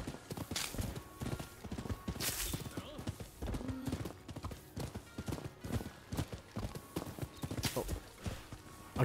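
Horse hooves in the video game Rise of the Ronin, a rapid rhythmic clip-clop of a galloping horse with a neigh, continuous and close, with faint talk underneath.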